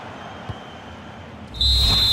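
A referee's final whistle at a Germany versus Ivory Coast World Cup football match sounds as a single long, shrill blast, loud over the stadium crowd's rising roar.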